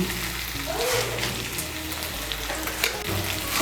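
Jackfruit and potato curry with yogurt, tomato and a little sugar fries in a pan while being stirred, a continuous crackling sizzle with scraping spoon sounds and a low background hum throughout.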